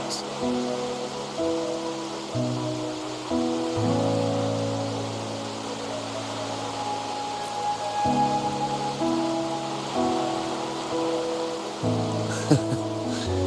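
Steady rain patters in the game Wuthering Waves, a soft continuous hiss running throughout beneath layered sustained music tones.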